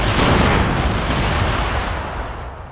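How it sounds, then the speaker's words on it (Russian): A house blown up by an explosion: one loud, broadband blast with a long rumbling roar that slowly fades across nearly three seconds, close and heavy, with no voices. "Отходи, ебать, хату взрываю."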